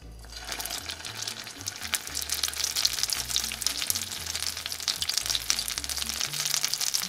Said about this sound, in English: Set your pan on a medium heat and add enough oil to fry your bread.